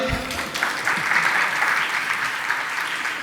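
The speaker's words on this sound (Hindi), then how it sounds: "समझ में आई कि नहीं? बजाओ ताली।" Audience clapping at a Jain religious discourse gathering at Gunayatan, Shikharji, a continuous wash of hand claps from a seated crowd, steady and fairly loud from start to finish.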